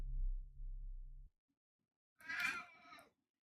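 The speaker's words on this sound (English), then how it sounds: "Oh, I hear my cats." Cats meow in the video game Bad Summer: one drawn-out, wavering meow rising clearly out of silence after a brief low electronic drone fades away.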